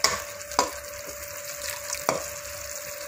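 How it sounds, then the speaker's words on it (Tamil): Masala for egg pepper masala sizzles softly in a pan, a steady quiet frying hiss broken by two brief stirring scrapes. "இப்போ இந்த மசாலா நல்லா வதங்கிடுச்சு."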